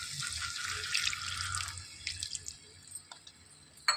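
Water from a small glass poured into a pan of egg pepper roast: a steady splashing pour for nearly two seconds, then scattered drips and small clinks, ending in a sharp knock.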